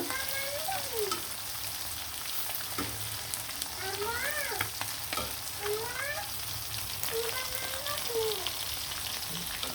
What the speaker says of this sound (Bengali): ইলিশ মাছের ডিম আর ইলিশ মাছগুলা কিন্তু খুব সুন্দরভাবে লাল লাল করে ভাজা ভাজা করে ফেললাম